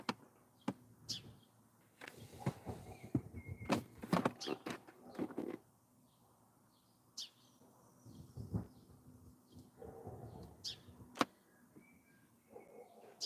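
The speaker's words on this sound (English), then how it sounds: "It's a sparrow getting loud." Short, sharp sparrow chirps come in scattered bursts outdoors, fairly faint, with quiet gaps between them.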